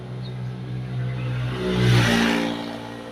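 A carbureted Toyota Kijang engine revs up and accelerates, a steady mid-pitched drone swelling to a louder peak then easing off, close and continuous without speech.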